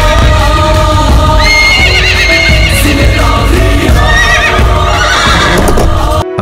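A horse neighs loudly and close, with drawn-out whinnies and wavering calls plus clip-clop hoof sounds under a dense, full backdrop.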